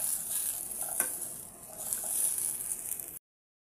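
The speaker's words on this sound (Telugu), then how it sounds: "ఇప్పుడు దీన్ని లైట్గా ఫ్రై చేసుకున్నాం" Okra (bendakaya) pieces lightly frying in a pan, a steady soft hiss of oil with faint crackles and a few light stirring taps, continuous and fairly quiet before ending abruptly.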